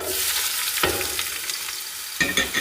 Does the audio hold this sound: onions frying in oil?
yes